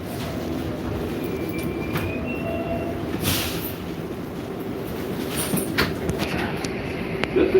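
A New York subway train runs steadily on the rails, with a continuous loud rumble, a brief screech of wheels near the middle, and faint clatter toward the end, with no talking.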